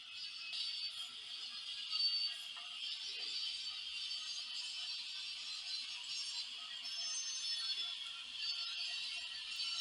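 A model train's wheel flanges squealing on track curves, a steady high-pitched screech that holds throughout at moderate volume with faint mechanical clicks beneath and no talking.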